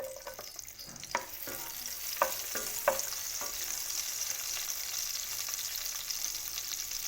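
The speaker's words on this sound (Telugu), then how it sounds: "ఆయిల్లో చిల్లీస్ వేసుకుందాం" Chillies sizzling in hot oil for a bottle gourd pulusu: a close, steady frying hiss broken by a few sharp stirring clicks and taps, with no voices.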